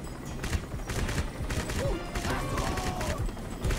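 Dense, continuous gunfire and explosive crackle from the first-person shooter Crysis, loud and unbroken throughout, with no talking over it.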